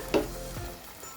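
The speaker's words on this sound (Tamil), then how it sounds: "இப்போ வந்து நம்ம புளி தண்ணி ஆட் பண்ணிக்கலாம்." Tamarind water poured into a hot pan of sautéed onion-and-oil base for Andhra fish curry, giving a brief loud sizzling burst with stirring, then a softer fading crackle, close by with no talk.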